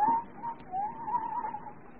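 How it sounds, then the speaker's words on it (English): An owl outside a house hoots in a soft, wavering call of about two seconds, faint and somewhat distant in a quiet setting. "There was an owl outside the house."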